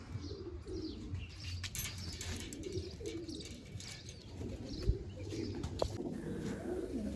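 Pigeons, including crested birds, cooing in a coop alongside continuous soft fluttering and chirps, with occasional louder wing flaps and a steady mid-level murmur of bird activity throughout.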